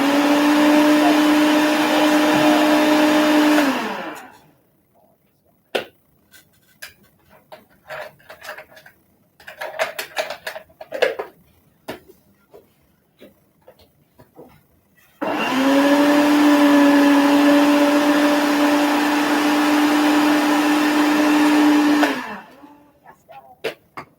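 A kitchen blender on its puree setting whirs loudly for about four seconds, stops amid spoon clatter and rattling, then roars again for roughly seven seconds before cutting off.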